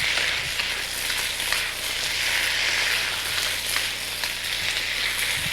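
Shrimp stir-fry in a hot pan, with a loud, steady, close sizzle and crackle that runs continuously and is broken only by faint stirring knocks.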